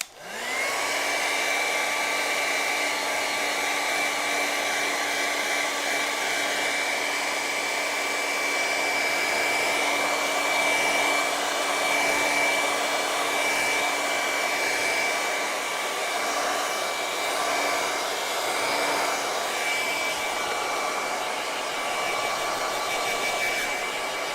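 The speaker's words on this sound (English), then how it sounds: "Plug your ears, gonna hair dry this." A hair dryer blows on a painting with a loud, continuous whooshing roar and steady whine, running alone from start to end without pause.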